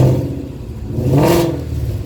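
A 2015-2017 Ford Mustang with variable exhaust revs once up from a deep idle, the exhaust note swelling loud and close before settling back to a rumbling idle.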